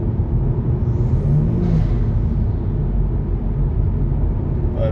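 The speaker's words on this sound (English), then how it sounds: "A little bit of acceleration and backing it off real quick so you can hear it blow back." A 2019 Kia Stinger GT2 fitted with Injen intakes gives a short burst of acceleration and then backs off, a moderately loud engine rumble with a brief whooshing blow-off sound, heard from inside with no talk.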